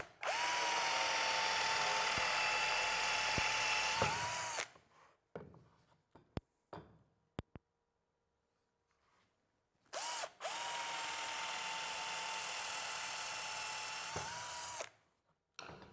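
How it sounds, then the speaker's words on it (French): A power drill bores holes into an MDF board in two long bursts of steady, loud whining. Between them are quiet gaps with a few sharp clicks and taps. "Percez maintenant les perforations dans lesquelles les tournevis seront insérés tout à l'heure."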